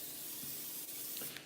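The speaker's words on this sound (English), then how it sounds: "you spray the pan" Cooking oil sprayed from a can onto a cake pan, one continuous soft hiss lasting about a second and a half, close and fairly quiet.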